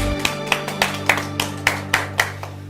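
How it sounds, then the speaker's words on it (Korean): Steady rhythmic clapping from a group at a church worship service, about three claps a second, over a sustained keyboard chord. "하나님께 영광의 박수 올려드리겠습니다."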